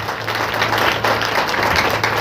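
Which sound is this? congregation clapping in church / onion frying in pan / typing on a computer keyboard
congregation clapping in church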